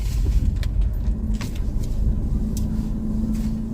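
A car drives along with a steady, low road and engine rumble heard from inside, with a few faint clicks and rattles on top.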